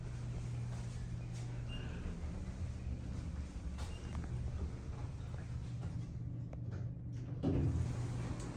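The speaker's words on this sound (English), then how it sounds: "Westinghouse door track" A Westinghouse elevator door slides along its track with a low, sustained rumble and faint rattles, ending in a brief louder thud near the end.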